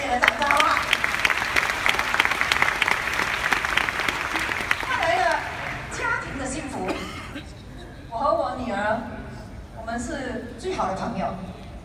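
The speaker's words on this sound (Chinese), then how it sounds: "我们给卢昕一个最热烈的掌声好不好" Audience applause at a Nu Skin convention, loud sustained clapping from a large crowd that fades after about five seconds, followed by someone speaking over the hall.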